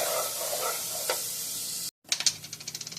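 Garlic sizzles in a frying pan as a steady, hissing crackle. The sizzle drops out for a moment, then comes back with sharper bursts of spitting and popping.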